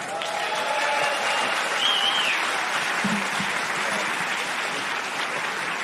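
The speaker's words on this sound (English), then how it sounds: "And I also want a warm applause for Ivor Cummins" Warm audience applause for Ivor Cummins at an international science panel event, a steady dense clapping wash that holds loud and even throughout, with faint crowd murmur and a brief voice underneath.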